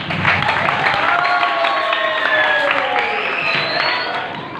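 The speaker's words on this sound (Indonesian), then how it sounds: "Tepuk tangan yang meriah." Lively applause from a seminar audience of Islamic boarding school students, a dense continuous wash of many hands clapping with some cheering, sustained and fairly loud before tapering slightly at the end.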